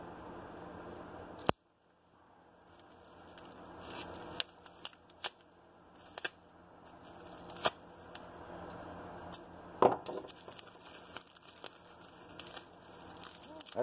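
A skull knife slicing through tape and bubble wrap on a mail package, scattered sharp clicks and cuts with crinkling plastic rustle throughout, close and fairly quiet.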